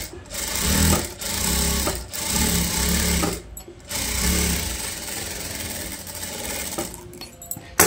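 A sewing machine stitches a cloth sleeve joint in quick bursts, a rapid mechanical whirring chatter that starts and stops several times with short pauses, near and loud, with no one speaking.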